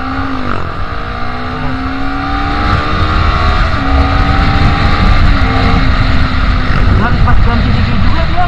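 A Honda CBR250RR motorcycle engine accelerates on throttle during a test ride, its pitch climbing smoothly through the gears in a loud, close whine, with a rider talking over it.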